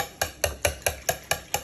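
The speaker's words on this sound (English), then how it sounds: "I am going to whisk this up some" Whisking ingredients for jambalaya in a bowl: seven sharp, evenly spaced metallic clinks in a quick regular rhythm, close and clear, with no talking.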